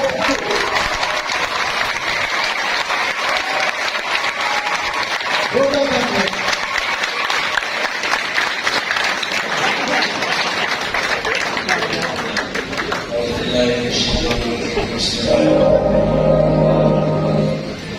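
At an annual ISAAR conference, an audience welcomes a speaker with a long stretch of steady applause while a voice talks over it. Near the end the clapping gives way to other sounds.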